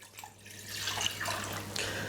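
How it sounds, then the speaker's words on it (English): Two cups of water poured into an empty medium-sized pot in a home kitchen, a soft steady splashing stream running for about two seconds, quiet and close with no talking. "What I'm gonna do is put 2 cups of water"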